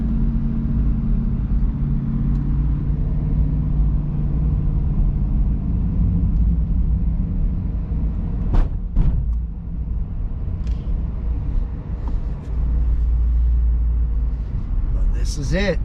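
A C8 Corvette rolls slowly into a Chevrolet collision center lot, its engine a steady low rumble throughout, with a couple of brief sharp clicks partway through and faint background noise near the end.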